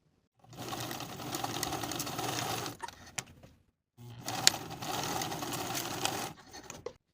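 A sewing machine stitches the side seams of a skirt facing in two quick bursts, each a few seconds of rapid, close mechanical whirring and clatter separated by a short pause with small clicks.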